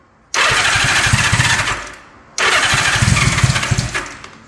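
A motorcycle engine on choke cranks and catches, revs roughly for about a second and a half, cuts out, then fires again and keeps running with an uneven, loud, close-up idle.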